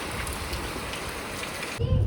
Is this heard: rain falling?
yes